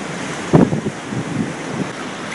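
Hurricane Sandy floodwater on Long Island in 2012 surges mid-thigh deep around the side of a house, a steady broad rushing wash with a few brief splashes and wind buffeting, no talking.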